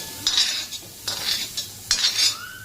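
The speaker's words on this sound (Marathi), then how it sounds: "तांबूस करायला येईपर्यंत तेलामध्ये आपण परतून घेणार आहोत." Onion and spice paste roasts in oil for bitter gourd curry while a utensil scrapes and stirs in three bursts, with metallic clinks and a soft sizzle underneath.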